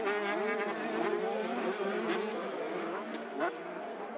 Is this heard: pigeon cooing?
no